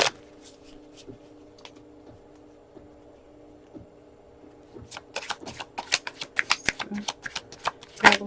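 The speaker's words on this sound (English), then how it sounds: "I'm going to just shuffle them again one more time." Tarot cards shuffled in a rapid flurry of crisp riffling clicks that builds up after a few quiet, scattered taps, close and clear.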